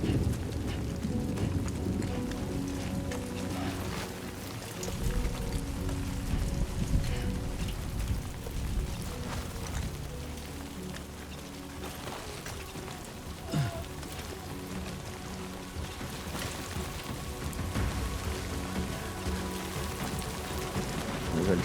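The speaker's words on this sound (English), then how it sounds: "Great. Rain. Gotta move." Steady rain falls in the video game Death Stranding 2, a dense, even patter on surfaces throughout, with no one speaking.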